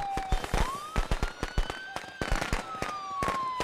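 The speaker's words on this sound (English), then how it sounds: "thank you for the firecrackers" Firecrackers going off in the Friday the 13th video game, a rapid string of sharp crackling pops spread across the whole stretch, with a rising and falling siren-like whistle running beneath.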